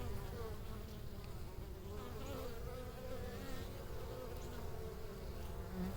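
Honeybees buzzing around the entrance of a beehive in a bee yard on a January day as foragers return with pollen, a steady dense drone of many insects close by with no talking.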